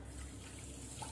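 Water poured into a pan with sugar to start a syrup for malpua, a steady faint trickle and splash lasting about a second.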